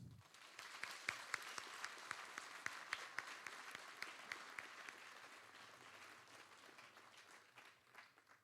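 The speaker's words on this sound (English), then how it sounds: "Please join me in a round of applause for the drill sergeants." Quiet, distant applause from a group at an army basic combat training graduation, with a few sharp claps standing out early before the clapping thins and fades.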